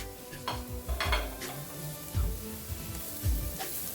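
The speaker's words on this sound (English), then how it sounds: "just letting you know what I'm doing while the onion is cooking" Onion cooks in a pan while a utensil stirs and scrapes against the metal, producing several soft knocks and scraping strokes over a faint, low sizzle.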